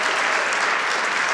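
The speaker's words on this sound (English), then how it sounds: "a very big applause and a hoo-hoo for Leontine." Brief, steady burst of audience applause at a conference, dense clapping that fills the room with no talk over it.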